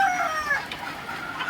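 Chickens cluck and a rooster crows in a farmyard during rainy days, the crow rising clearly before softer clucking continues nearby.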